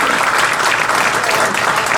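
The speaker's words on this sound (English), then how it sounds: "Everybody's clapping" Loud, dense audience applause at an alumni award breakfast honouring an inductee, clapping close and continuous throughout.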